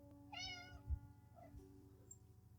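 A cat meows once, close and fairly clear, a short rising-falling call over a low steady electrical hum, with faint smaller sounds afterward.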